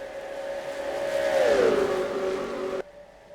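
A race car at Pocono Raceway roars past, its engine note swelling, dipping in pitch as it goes by, then cutting off abruptly, heard at moderate distance.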